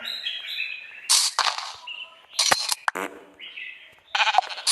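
Minecraft sheep at a wool farm bleat repeatedly in short bursts, mixed with chirpy bird-like game sounds. A voice talks in between.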